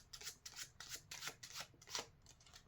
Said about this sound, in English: shuffle them to the top,